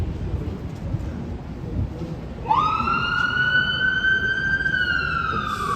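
An emergency vehicle siren wails on an evening city street in Yorkville. It cuts in halfway through over low traffic rumble, then holds a loud, steady tone with no talking.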